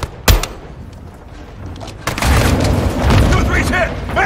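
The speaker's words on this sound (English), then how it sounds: "They're launching grenades!" A grenade bursts with a sharp boom in a Call of Duty: Modern Warfare II campaign firefight, followed by a second heavier rumbling explosion and scattered gunfire, loud and close with soldiers shouting over it.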